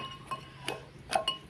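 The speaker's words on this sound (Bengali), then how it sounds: "প্রথমেই একটু কুলগুলোকে থেঁতে করে নেবো হামালদিস্তিতে" Jujube plums being crushed in a mortar and pestle, heard as a few sharp, hard clinking knocks spaced irregularly, fairly close and quiet, with no talking.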